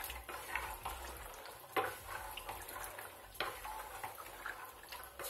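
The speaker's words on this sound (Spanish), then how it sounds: "Removemos otro poquito." A spoon stirs a pot of chickpea and spinach stew, making soft, irregular scraping and clattering knocks at a few strokes over several seconds. The sound is quiet and close, with a faint wet bubbling underneath.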